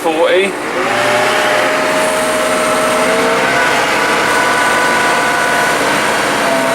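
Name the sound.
tractor engine revving with PTO engaged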